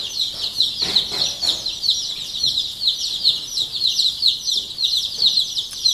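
A group of mixed-breed laying-hen chicks in a new brooder peep rapidly and continuously, their high chirps overlapping near at hand, with faint rustling beneath.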